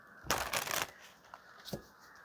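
A deck of tarot cards shuffled one last time: a loud half-second riffle close up, then two or three small soft taps and flicks as the cards settle, with no talking.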